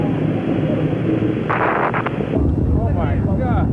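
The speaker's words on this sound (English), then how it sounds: "The explosion appeared to destroy Challenger." The Space Shuttle Challenger explodes during launch in 1986, a sustained roaring rumble with wind-buffeted distortion that shifts into a harsher, crackling burst midway, loud and continuous.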